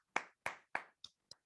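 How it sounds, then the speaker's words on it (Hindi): Five sharp hand claps ring out close and alone in a classroom, the first three evenly spaced and strong, the last two quicker and lighter. "तालियां आपके लिए"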